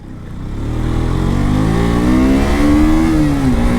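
A 2022 KTM RC 125 motorcycle revs up through its exhaust, a loud close engine note whose pitch climbs steadily over a few seconds with no talking.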